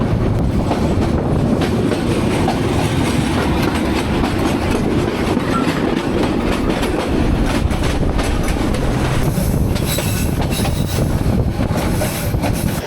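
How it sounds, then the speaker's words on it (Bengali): The Mahanagar Provati passenger train from Dhaka to Chattogram running on rails near Tongi station, a loud continuous rumble with a rhythmic clickety-clack of wheels over rail joints and wind buffeting throughout. "টঙ্গী রেলওয়ে স্টেশন থেকে আবারও একটা সার্কেল কার নিয়ে ট্রেন ভৈরবের দিকে প্রবেশ করতেছে"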